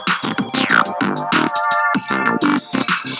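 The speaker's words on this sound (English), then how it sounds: "our bass line will sound like this" A funky bassline sliced up and randomly re-sequenced in Ableton, playing as choppy, stuttering bass notes in a busy rhythmic pattern, loud and up front with no talking.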